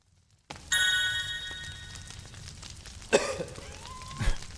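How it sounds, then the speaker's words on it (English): A character in the video game Sir Whoopass coughs as an attack, with a rough throat-clearing burst over game sounds and a ringing tone, then a second cough later on. "He is literally coughing."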